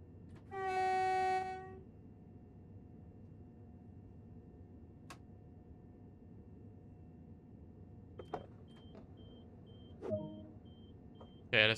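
A train pulls into a station between Balham and London Victoria in the Train Sim World 2 video game, opening with a loud two-tone horn blast, then quiet rolling rumble with scattered clicks and clunks as it slows.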